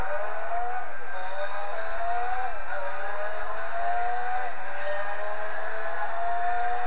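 Simulated car engine from Gran Turismo 4, a Chrysler hot rod among the cars raced, revving up through the gears in a loud sawtooth pattern of rising pitch and quick drops at each shift, with no one talking.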